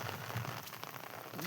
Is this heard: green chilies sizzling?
no